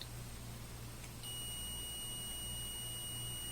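A multimeter beeps on a continuity test as its probes touch a TQFP48 STM32F microcontroller pin and its solder pad during hand soldering: a steady, clear tone starts about a second in and holds unbroken to the end.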